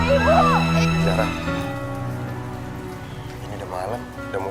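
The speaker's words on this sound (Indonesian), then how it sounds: "Iya sih, udah hujan juga." Night rain patters steadily on surfaces behind a dramatic scene, with people talking and music playing over it throughout.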